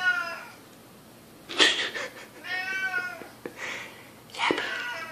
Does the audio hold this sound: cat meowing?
yes